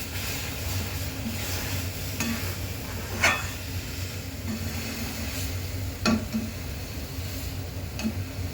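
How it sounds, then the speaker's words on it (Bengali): A utensil stirs food steadily in a pan, a low continuous scraping bed with occasional sharp ticks and clinks, close and moderately loud without any voices. "যার জন্য মানে আর কি কন্টিনিউ নাড়াচাড়া করছি।"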